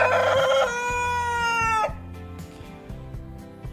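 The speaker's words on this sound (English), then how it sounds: "I just bought today these four Brahma chickens, gold Brahma chickens" A Gold Brahma rooster crows once, loud and close, followed by several short, repeated clucks from Brahma hens nearby.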